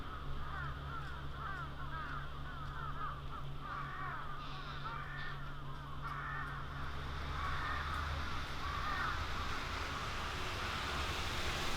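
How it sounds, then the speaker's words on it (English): Crows caw over and over in a loud, overlapping chorus, with a steady low rumble of wind or surf running underneath the whole time. "These crows are crazy, dude."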